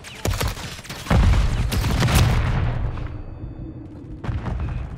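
Rifle fire from a TAQ-56 in Modern Warfare 3 erupts in rapid loud bursts, a dense volley of close shots that tails off into quieter echoes before a final short burst.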